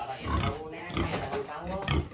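A pig grunts in low rough bursts close by, mixed with people talking nearby.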